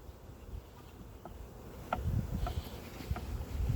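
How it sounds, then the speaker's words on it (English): Bees buzz around a hive during a February inspection as foragers return with pollen, a low, faint, continuous hum that grows slightly louder partway through, with no talking. "I see your bees all coming in good with pollen and everything else."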